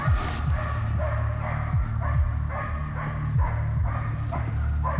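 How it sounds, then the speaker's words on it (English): Several dogs bark and yip amid a noisy outdoor scene with pigs running loose, the barking repeated and fairly close over a constant rumbling background. "We've got dogs all the way around."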